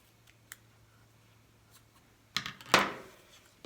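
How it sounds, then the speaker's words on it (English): Scissors snip through craft material for a Dollar Tree Valentine decoration, two close crisp cuts near the end after a quiet stretch with faint rustling and a small tick. "I'm going to cut it one more time."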